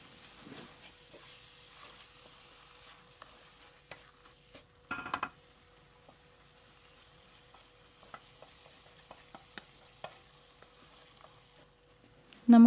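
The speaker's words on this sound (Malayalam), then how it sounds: "ഇനി കുറച്ച് സമയം ഇതൊന്ന് വഴറ്റി കൊടുക്കാം" Chopped tomatoes sauté with ginger garlic paste in a pan for a chicken rice dish, giving a soft, steady sizzle broken by light stirring scrapes, a brief louder clatter midway and a sharp knock at the close.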